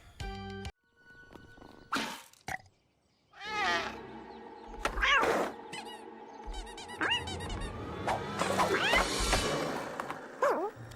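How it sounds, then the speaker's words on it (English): A cat gives a string of squeaky meows and mewling cries, close and fairly loud, separated by short silences before the calls blend into a busier run of yowls toward the end. "Cat."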